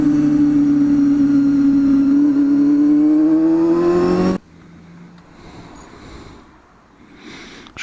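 A Honda Hornet 250 motorcycle engine roars loudly and close, pitch rising steadily for about four seconds before cutting off abruptly to a quiet idle-like rumble.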